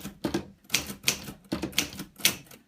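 Clacking keystrokes on an old manual typewriter, up close and loud, struck in uneven bursts of two or three with short pauses between.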